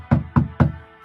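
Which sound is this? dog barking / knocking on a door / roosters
knocking on a door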